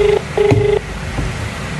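A telephone is dialed for a call, giving a quick run of about five short DTMF keypad tones in an uneven rhythm, close and clear over faint background noise.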